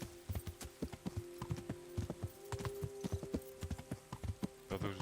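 Rhythmic hoofbeats clip-clop in quick succession, a horse galloping in the video game Kingdom Come: Deliverance, with a steady low hum and a brief whinny near the end.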